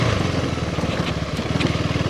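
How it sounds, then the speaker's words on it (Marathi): A friend's KTM Duke 390 motorcycle is ridden near Vaitarna Dam, its single-cylinder engine a close, steady pulsing drone with no talking. "किती दिवसांनी ड्यूक चालवतोय, किती महिन्यात"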